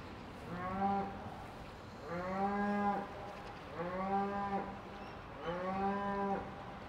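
Cows lowing on a floating dairy farm platform in Rotterdam, four long drawn-out moos spaced evenly a second or so apart, fairly close and clear with no voices over them.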